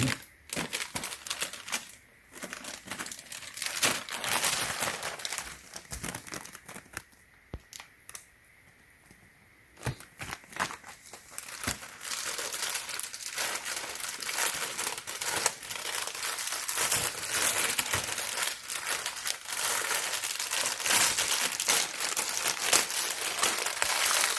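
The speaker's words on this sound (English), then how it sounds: "make sure you remove this plastic bag, or it's going to suffocate the machine." Plastic wrapping is pulled off a new Winix 5500-2 air purifier, giving dense, continuous crinkling and rustling close by, with a brief quiet pause partway before the crackling resumes and keeps going to the end.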